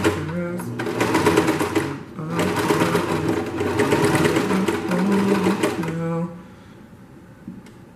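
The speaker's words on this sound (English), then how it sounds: "I was using a sewing machine" A sewing machine runs in steady bursts, stopping briefly near the two-second mark and cutting out after about six seconds, with mechanical whirring close by and loud.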